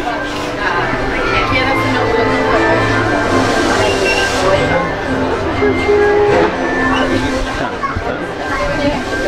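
Train ride at Disneyland Paris, with a steady rumble of the moving train beneath a crowd of passengers chattering and calling out around it, fairly loud and close.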